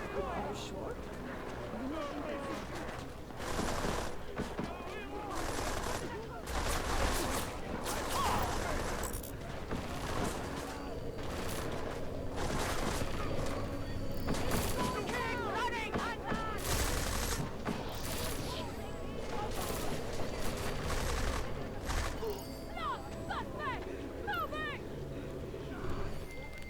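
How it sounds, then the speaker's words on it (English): Steady crackle of scattered gunfire from the Dividing Mankind game runs throughout, with shouting and talk layered over the shots and music-like tones beneath. "There's a shooting!"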